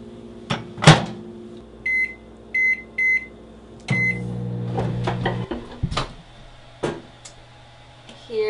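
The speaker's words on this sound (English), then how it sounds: "put it in the microwave for 6 minutes" A microwave oven heats fish sealed under plastic wrap: keypad beeps sound in a short series, then the oven hums steadily with clicks and a door clunk nearby.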